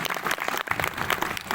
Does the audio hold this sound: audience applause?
yes